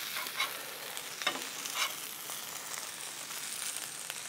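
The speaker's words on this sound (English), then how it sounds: "we're gonna take our spatula and we're gonna gently fold and press these down" Birria tacos being folded and pressed with a spatula on a hot Blackstone griddle give a soft, close sizzle and frying crackle, with a few brief scraping strokes of the spatula near the start.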